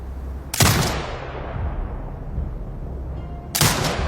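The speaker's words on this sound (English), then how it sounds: "Exit binocular mode and command the turret to fire." A gun turret firing in Sniper Ghost Warrior Contracts 2, with two loud, sharp blasts about three seconds apart, each trailing off into a long, rumbling echo.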